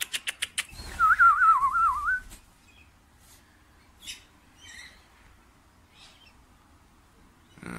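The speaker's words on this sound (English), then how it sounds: "Australian Eastern Rosellas." Eastern Rosellas, Australian parrots visiting a home patio, give a rapid warbling whistled call in the first seconds after a few sharp clicks, followed by quieter scattered chirps against a still background.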